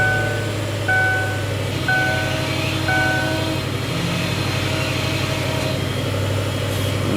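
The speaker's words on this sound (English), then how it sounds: "Power steering still makes some noise, but it always kind of did" A 2002 Ford Thunderbird idles while its power steering is turned, producing a steady engine drone with a recurring high whine that rises and falls in short bursts about once a second, loud and close, with no speech.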